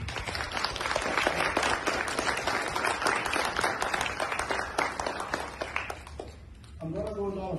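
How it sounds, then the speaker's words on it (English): Wedding guests break into sustained applause, a dense wash of clapping from a crowd that fills most of the stretch before fading, with a voice beginning to speak at the very end. "If you can applaud, I'll appreciate it."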